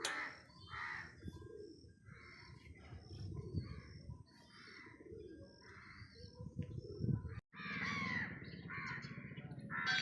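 Pigeons and other birds call and coo around the Dwarkadhish Krishna temple, the calls repeating steadily at middle distance over a quiet outdoor background with faint voices.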